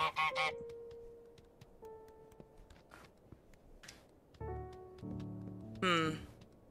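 Several loud honks from the goose in Untitled Goose Game on Switch, sounded in short separate bursts with pauses between, plus some tonal game sounds and light movement noises.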